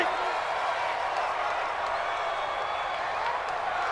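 A stadium crowd in an American football video game roars in a steady, dense wash of cheering and applause. It holds at an even level throughout with no pauses, though speech is hard to separate from it.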